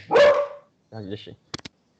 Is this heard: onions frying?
no